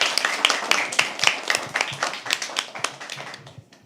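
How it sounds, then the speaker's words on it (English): Clapping from a modest audience at a live poetry open mic, a quick, fairly close patter of hands that thins out and stops after a few seconds. "One more applause, please."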